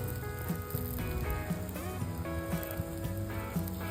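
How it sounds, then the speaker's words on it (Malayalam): Chopped chillies, ginger and garlic sizzle in a hot pan, a soft, steady frying hiss with small regular clicks, partly under background music. "എന്നിട്ടൊന്ന് നല്ലോണം എല്ലാം കൂടെ ഒന്ന് സോട്ട് ചെയ്യാണ്."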